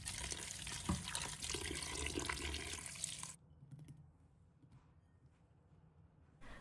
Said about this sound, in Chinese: 浸泡好的香菇捞出来， 再仔细清洗几遍。